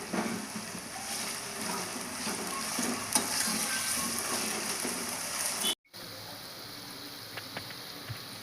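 Amaranth leaves and potato fry in oil with a dense, continuous sizzle and occasional stirring clicks. The sound cuts out briefly, then the frying returns, close and steady, with no talk.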